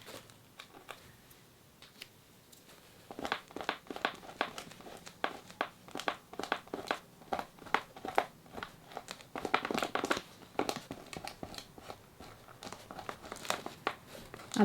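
Masking tape is peeled off watercolour paper in a series of close, crisp crinkling and tearing rips, irregular and fairly quiet, without talk.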